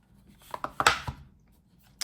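Handling and opening a Samsung Galaxy S23 FE Graphite phone box gives a few close, quiet clicks and cardboard scrapes, then a brief rustle at the end.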